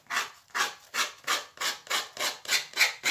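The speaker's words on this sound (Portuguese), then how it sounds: "Agora a gente vem aqui, ó, com a lixa de novo para tirar" Sandpaper rubbing over a CD decorated with napkin decoupage, eight steady back-and-forth rasping strokes in an even rhythm, close and clear with no talk.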